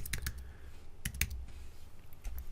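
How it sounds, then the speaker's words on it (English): Keys clatter on a computer keyboard in short bursts of quick clicks separated by brief pauses, close and fairly quiet. "I can keep typing."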